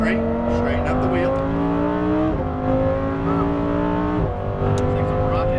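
A Lamborghini Huracan Performante accelerating on the race track at EXR Las Vegas, its engine note climbing steadily through the gears with two sharp upshift drops, loud from inside the cabin while an instructor talks over it.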